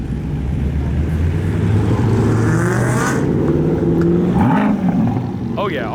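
A modified Audi R8 with an aftermarket exhaust revs hard at an outdoor car show, loud rising engine roars and falling revs up close while people talk nearby.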